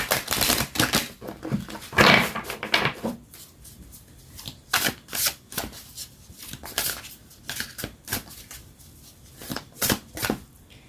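Tarot cards shuffled and handled in repeated riffling bursts with pauses between, close and crisp, no talking.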